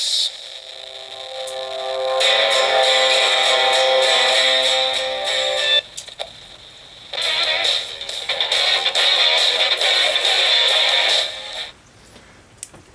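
Crackling, hissy static from a thunderstorm on a Sunglife solar crank NOAA weather radio, with broadband noise bursts, fading in and out in two long stretches, fairly loud and close, no talking.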